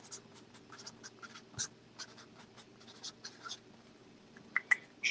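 A pen scratches across paper in short strokes and small bursts, close and quiet, with a few sharp taps near the end.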